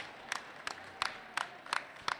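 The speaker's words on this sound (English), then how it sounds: "Please, big round of applause" A live podcast audience at a university tasting event gives a faint, rhythmic round of applause at a distance, with rowdy crowd murmur underneath.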